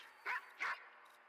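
Two sharp dog barks in the video game Watch Dogs 2, close and evenly spaced, over a low steady background hum.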